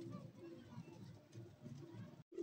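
A pigeon coos in a rooftop loft in low, throaty repeated phrases, close by, with faint background noise and a brief dropout near the end.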